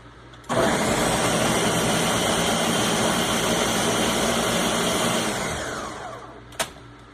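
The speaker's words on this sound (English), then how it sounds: "Okay, I'm going to blend these." A blender blending vegetables for salsa starts abruptly and runs with a loud, steady whirring roar for several seconds, then slows and winds down before a final click.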